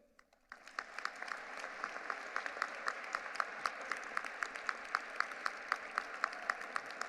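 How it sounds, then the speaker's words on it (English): A medical school commencement audience applauds a speaker, sustained clapping with distinct sharp claps standing out, heard from a distance in a large hall. "Let's hear some more applause for Dr. Endo."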